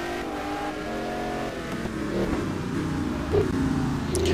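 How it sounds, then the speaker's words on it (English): A GT1 race car on its outlap at Sebring accelerates with a steady engine drone that rises and shifts through gears, loud and continuous, with no one talking. "we can hear the other car in his outlap gaining on Darrell."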